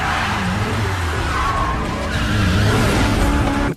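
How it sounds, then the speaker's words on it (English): A 280-horsepower single-turbo, all-wheel-drive Mitsubishi Lancer Evo 7 drives hard with a loud, steady engine roar and screeching tire squeal sustained throughout. "Mitsubishi Lancer Evo 7."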